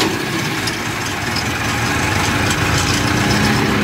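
A Home Depot rental tree branch chipper mulcher idling at about 800 RPM, a loud, steady close engine drone with a rough mechanical rattle throughout and no talk.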